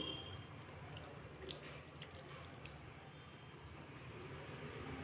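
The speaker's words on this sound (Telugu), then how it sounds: "ఆ నూనె దీంట్లోనే పోసి మొత్తం కలిపేసుకోవాలి" Frying oil from cooked onions poured into a red chicken curry mixture, a steady soft liquid trickle and drip running continuously at close range with no talk.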